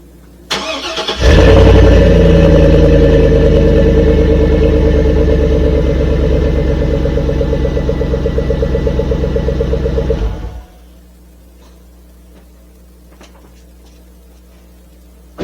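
A car engine cranks and starts in a workshop, then idles steadily and loudly for about nine seconds before it is switched off, leaving near silence.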